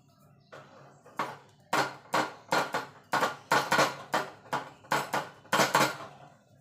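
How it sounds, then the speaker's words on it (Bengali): Gram flour is shaken through a metal sieve for a bundiya batter, making a series of close, loud rhythmic tapping and rattling knocks, about a dozen strokes in uneven bursts, with no voice. "এবার বেসনটাকে চেলে নেব।"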